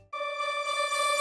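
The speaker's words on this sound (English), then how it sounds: "These are like a collection of risers, panned a little bit left and right." A bright rising synth riser sample, unprocessed and panned slightly left and right, swells steadily, a clean harmonic tone sweeping upward and growing louder over about a second, with no voices.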